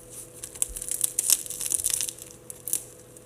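The crisp crust of a freshly baked sourdough loaf crackles and crunches up close in quick irregular bursts, loud snaps rising over quieter moments.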